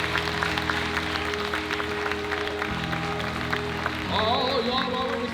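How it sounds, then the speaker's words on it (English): Church congregation clapping hands in praise during an evening service for a mayoral inauguration anniversary, a dense steady wash of applause with music and voices underneath throughout. "let's give God a hand clap of praise just for being in this place tonight"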